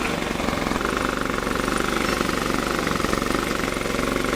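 A DIY wood-gas producer feeds a generator engine that runs steadily with a rapid, even chugging pulse, loud and close, alone throughout.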